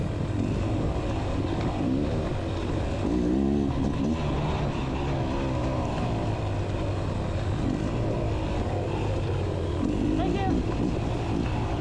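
A Beta Xtrainer 300 dirt bike ridden hard along a sandy trail in a hare scramble race, its engine a loud, continuous buzzing drone with repeated surges as the throttle opens.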